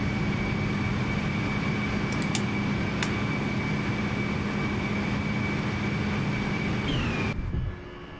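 From inside the cabin, a JetBlue Embraer 195 climbs after takeoff with a constant broad engine roar and a steady whine. Near the end the roar drops noticeably to a quieter level.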